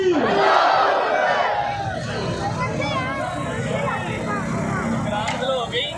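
A large crowd at a Rabi ul Awal religious rally roars the Takbeer slogan in unison, a loud massed shout that swells and then carries on as a dense crowd chant.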